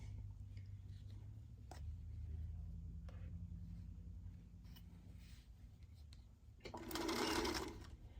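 Sewing machine stitching cotton fabric squares into a quilt block, a steady close mechanical hum and rapid needle chatter running throughout at low level, with a brief louder burst near the end.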